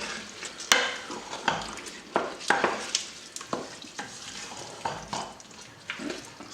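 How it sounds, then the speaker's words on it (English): Rice being stirred into goat meat stew for Ghanaian jollof in a pot, with repeated scraping, clattering stirs in an irregular rhythm over a soft sizzle, close and fairly quiet. "give it a little stir"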